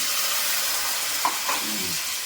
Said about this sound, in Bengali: মশলা ভাজাতে অল্প জল দিয়ে দিচ্ছি।